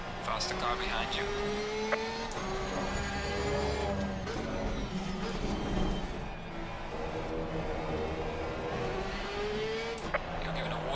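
Race car engines drone and rev at the Nürburgring in Assetto Corsa Competizione, a steady close engine note rising and falling through gear changes, with a player speaking over it.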